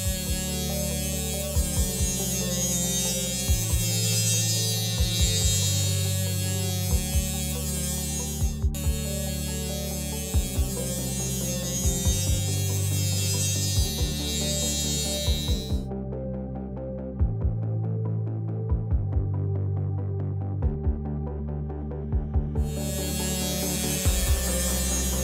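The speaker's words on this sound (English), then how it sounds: "To do this, I'll use my rotary tool." A rotary tool sands rough hot glue off the edges of a cardboard model. It gives a steady, close electric whine and buzz, with brief pauses and repeated pulses as it touches the cardboard.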